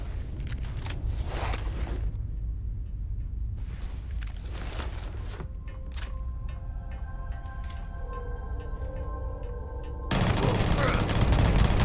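MagShear guns firing in Starfield with a modded combat overhaul: dense rapid bursts of loud automatic fire in clusters, a pause filled with mechanical ringing, then a heavy steady roar of fire at the end.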